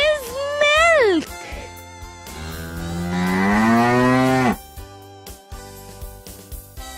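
A cow moos loudly twice, a short low call followed by a long drawn-out bellow, with faint rustling afterward.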